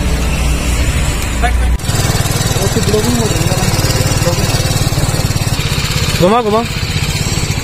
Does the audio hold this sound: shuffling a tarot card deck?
no